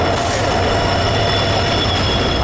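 An express train from Nanded to Pune, hauled by a WDP4D diesel locomotive of the Pune loco shed, rumbles loud and steady from onboard with a thin, high wheel squeal over the roar.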